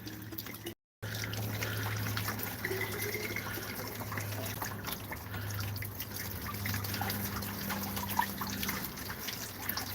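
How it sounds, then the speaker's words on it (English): Garden plants being watered with Ormus colloidal water: a steady, gentle trickle and patter of water runs for the whole stretch, with faint drips and a low hum underneath, and no one talking. "Had to water the gardens and all of the plants one last time with the Ormus colloidal water"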